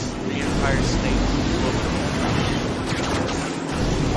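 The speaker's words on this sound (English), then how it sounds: "It's a giant wave of water that dwarfs the Empire State." A giant wave of water surges and crashes in a racing video game, a broad roaring wash of noise that swells and rolls on steadily for a few seconds.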